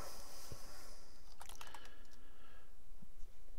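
Keys clatter on a computer keyboard in a quick burst of several close taps, then a couple of isolated keystrokes follow against a quiet room hum.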